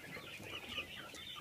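Chickens cluck softly in a coop, a low steady murmur of fowl sounds heard from a little distance, faint and continuous with no clear crowing.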